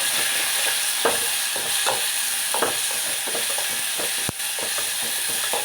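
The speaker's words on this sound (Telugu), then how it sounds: "టమాటా ముక్కలు త్వరగా మగ్గాలంటే ఉప్పు, అలాగే పసుపు, ఇలా పసుపు కూడా వేసి వేయించుకోవాలి." Tomato pieces with salt and turmeric frying in a pan for puri curry, a steady sizzle broken by repeated scraping strokes of a spoon, close and fairly loud with no talking.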